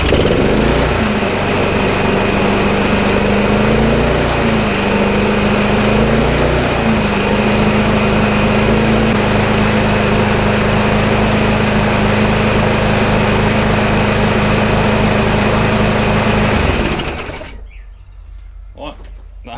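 A lawn mower's small petrol engine runs steadily and loudly for about seventeen seconds, with a smooth even drone, then cuts out, leaving near silence.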